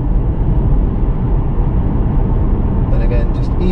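A Mercedes CLA 250e plug-in hybrid accelerating again after coasting with regenerative braking gives a steady low, muffled drive rumble heard from inside the cabin, continuous and moderately loud, with a brief faint voice near the end.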